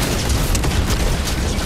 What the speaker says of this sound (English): Why do I hear explosions?